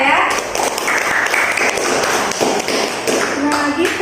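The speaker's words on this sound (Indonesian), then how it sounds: "Tepuk tangan untuk Jenisa ya." Classroom students clapping for a classmate, a scattered, uneven round of claps and taps close by, with voices talking over it.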